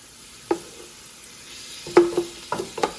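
Ground beef browning over medium heat in a pot for dirty rice, scraped and broken up with a spoon: scattered clacks and scrapes, a single knock then a quick cluster of several, over a faint sizzle with no talking.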